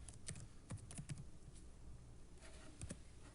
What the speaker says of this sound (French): Je vais essayer de le taper correctement.